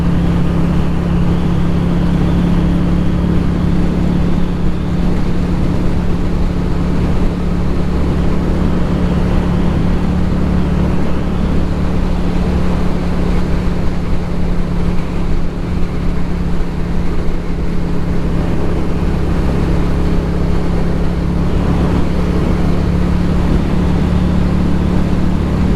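A Lifan Lycan 250 motorcycle riding on a winter road, with a steady loud engine drone and a constant low hum mixed with wind rush for the whole stretch, no voices.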